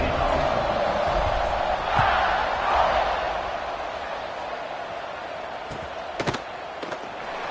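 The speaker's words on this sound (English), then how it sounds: "this crowd is buzzing after that last score" A college football stadium crowd buzzes after a score. The broad murmur is loud early with a couple of swells, then eases into a steadier hum with a few sharp claps or thuds near the end.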